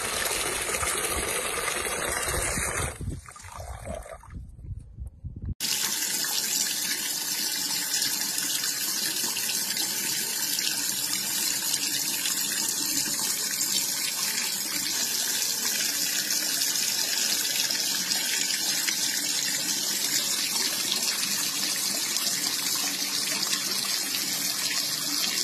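Tap water runs in Tuzla, first as a splashing stream that briefly softens, then a loud, steady gush that continues without pause, close to the microphone and with no talk.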